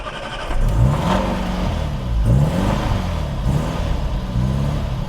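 A 1968 Mini engine, just tuned up after sitting, catches and revs up and down in loud, close throttle swells, running steadily throughout.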